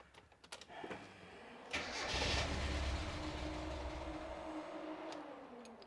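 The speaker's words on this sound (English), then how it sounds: "see if the car starts" A Mazda Miata engine cranks after a failure that left it stranded and fires up, a few clicks and a short crank, then a steady close idle that settles and holds.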